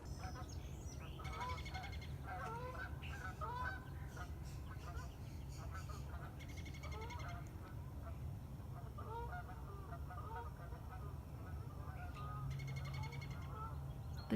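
Geese honk repeatedly at a distance in an open field, scattered calls in bursts over a low, constant outdoor rumble, with faint talking at times.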